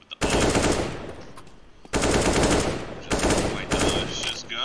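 Bursts of AK rifle fire in a competitive shooter video game, played at a home show event: loud rapid automatic volleys in three or four long strings with brief gaps, close and dominant.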